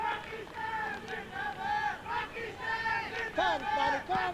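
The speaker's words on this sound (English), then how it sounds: "It brings a little bit of cheer in the crowd." A crowd at a 2003 Cricket World Cup match between the Netherlands and Pakistan raises a rhythmic, chant-like cheer, swelling and dipping in repeated waves of voices.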